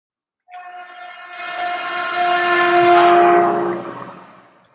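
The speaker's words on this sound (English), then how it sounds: "Sorry, there's a train going by." A train passes nearby, its horn sounding a long, loud sustained blast that swells and then fades over the rumble of the rail cars, with no talk over it.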